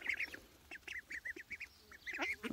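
Ducks quacking in a rapid run of short nasal calls, close by and fairly loud, with a denser burst of calls toward the end and no talking.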